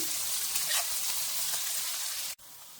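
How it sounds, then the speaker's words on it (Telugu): Cumin seeds and onions frying in a pan until light golden, a loud, steady sizzle close up with stirring, cut briefly by a sharp click near the end. "వేసుకొని బాగా కలుపుకొని లైట్ గోల్డ్ కలర్ వచ్చే వరకు ఫ్రై చేసుకోవాలండి"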